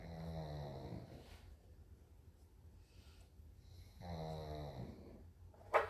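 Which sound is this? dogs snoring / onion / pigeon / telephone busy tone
dogs snoring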